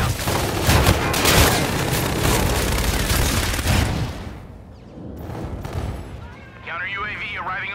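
Dense video game gunfire erupts in rapid bursts with booming heavy blasts, loud and close for several seconds, then thins to scattered shots as a radio voice speaks over the tail.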